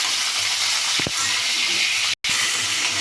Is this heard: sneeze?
no